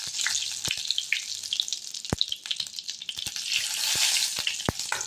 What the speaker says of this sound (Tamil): கடுகு போட்டுக்கலாம் ஃப்ரெண்ட்ஸ்